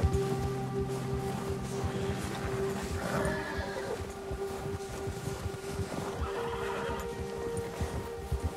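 A horse in the snowy wilderness of the video game Red Dead Redemption 2 whinnies over steady wind, hoof sounds and a low ambient drone.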